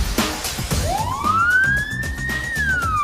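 A police siren whoops up and then holds a rising wail over a rumbling engine, loud and close, as police pull over a driver.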